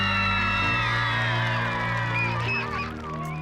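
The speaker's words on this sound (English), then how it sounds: "everyone is screaming with joy" A crowd of children at a bicycle giveaway shrieking and cheering with joy, a dense, steady wall of high excited voices that stays loud throughout, with a low hum underneath.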